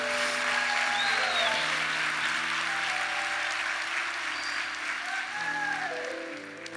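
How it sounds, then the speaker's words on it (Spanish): A church congregation applauds during a Mother's Day sermon, a steady, sustained wash of clapping heard from a distance under faint tonal sounds, holding level throughout before easing slightly near the end. "así que denle el aplauso también"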